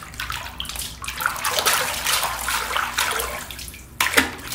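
Someone climbs into a pool filled with watermelon cool drink, producing a run of sloshing, splashing liquid sounds close by, with a sharper splash near the end.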